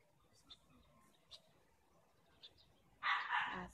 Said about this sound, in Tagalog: Yan yung aso namin